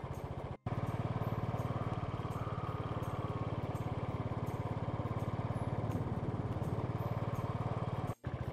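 A motorcycle engine drones steadily while the bike is ridden, a continuous mid-pitched rumble heard close with a rapid pulsing beat and two sudden brief dropouts.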